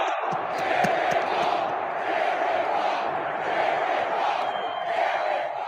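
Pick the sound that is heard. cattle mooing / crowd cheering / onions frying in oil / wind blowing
crowd cheering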